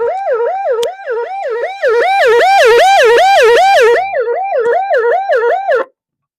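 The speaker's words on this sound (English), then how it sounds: "It even has a siren on it." A loud wailing electronic siren from a vintage GE clock radio cycles rapidly up and down in steady whoops, played close and alone for about six seconds before cutting off.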